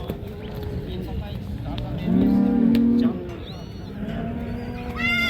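Cattle moo at a crowded livestock market in Karakol, Issyk-Kul region. One loud, long low moo rises mid-clip over a busy din of people talking, and other animal calls and chatter sound nearby.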